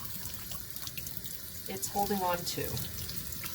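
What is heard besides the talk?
hot water running from a tap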